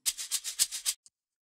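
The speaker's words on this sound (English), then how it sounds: "So, the first shaker is gonna sound like this." A pitch-shifted shaker sample in FL Studio plays a quick run of about seven bright, hissy shakes in an even rhythm, close and clean, ending with one faint tick before silence.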